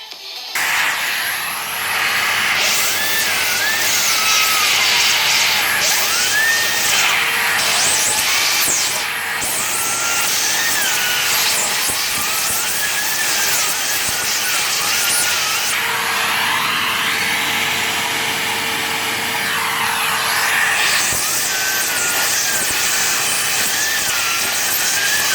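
Fan from a Panasonic unit with an F61 fault code, running steadily as a loud, continuous whooshing whir with a faint wavering whine, close by and without speech.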